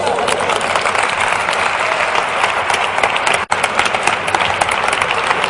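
A conference audience at an education debate gives a loud, sustained round of applause, dense and even throughout, with one brief dropout partway through before the clapping carries on.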